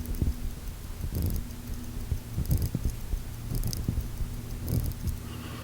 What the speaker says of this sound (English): You can see here, hand winding in the first position.